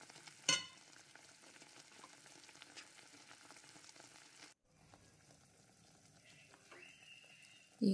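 Paneer balls for rasmalai boiling in sugar syrup in a pan: a faint, steady bubbling simmer, with a sharp clink early on, a brief dip in the middle and a louder knock right at the end.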